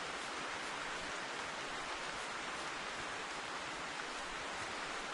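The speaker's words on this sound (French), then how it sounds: "ça me gave quand il pleut dans un Hunter" Steady rain in the hunting video game theHunter, a dense, even hiss of falling water that stays constant and moderately quiet throughout, with no voices.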